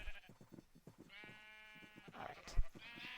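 Sheep in Minecraft bleat in a crowded flock, several overlapping wavering cries packed into a few seconds, moderately loud and close.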